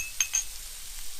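Celery going into a hot pan sizzles quietly, with a couple of faint clinks of utensil on metal near the start, then a soft steady frying hiss.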